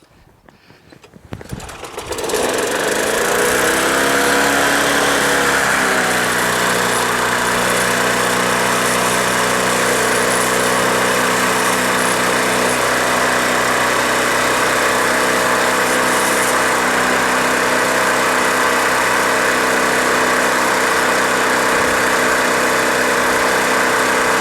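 A Briggs & Stratton Quantum lawn mower engine with a faulty primer bulb cranks briefly, catches and settles into a loud, steady running drone that continues to the end.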